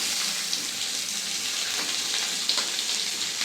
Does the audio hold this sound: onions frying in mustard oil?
yes